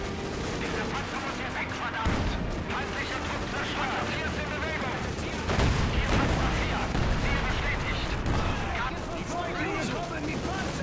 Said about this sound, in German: Da hinten, die Panzerabwehrkanone schrottet meinen Panzer.